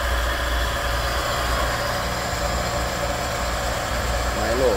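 A 2009 Daewoo Lacetti with a 1.6-litre petrol engine and manual gearbox idles steadily and smoothly up close, a continuous low hum with a faint hiss above it, heard alone throughout.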